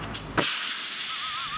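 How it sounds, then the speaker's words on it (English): Air hissing out of a car tire slashed with a giant knife, a short loud burst of broadband rush that settles into a steady, fairly close hiss, with a faint wavering whistle toward the end. "I've always wondered what happens if you slash the tires with a giant knife"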